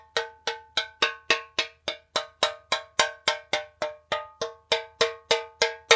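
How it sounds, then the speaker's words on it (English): A homemade bashy steel pan struck about twenty times at a steady, even pace, each hit a bright metallic ringing tone that decays quickly, heard close and alone. "there is your steel pan"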